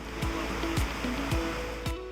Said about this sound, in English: The sounds and power of pounding water. A waterfall.